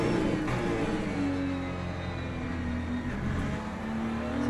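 Ferrari LMGT3 race car engine droning steadily at mid revs around Interlagos in a racing game, a continuous loud hum with slight pitch shifts through gear changes, no talk.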